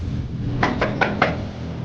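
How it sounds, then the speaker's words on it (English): Four firm knocks on a residential door during a police detective's visit, evenly spaced and close, with a dull hum underneath and no voices. "So we're knocking on Lisa's door"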